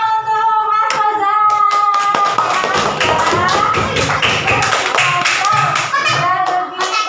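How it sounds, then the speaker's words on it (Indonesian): Classroom applause for a student: a burst of many hands clapping, loud and dense, taking over from voices in the first seconds and continuing steadily to the end. "Tepuk tangan untuk Mas Faza."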